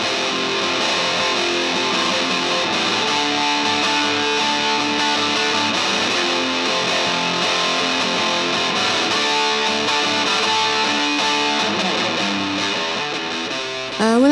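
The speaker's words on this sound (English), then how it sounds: "crank up the gain and rock the house" Heavily distorted electric guitar roaring through an amp, loud and sustained, with chords ringing on and no voices.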